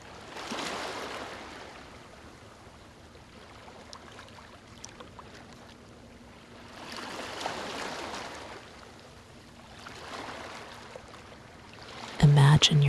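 Ocean waves washing onto a beach in slow, broad swells, three soft surges rising and fading over a gentle hiss, moderately faint and distant, ending with a brief louder burst.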